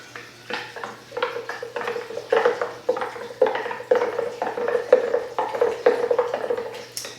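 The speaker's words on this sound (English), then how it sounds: "And then I just give it a stir." A homemade laundry product mixture being stirred in a container, a spoon clinking and scraping in a quick, regular rhythm, close and fairly quiet, with no voices.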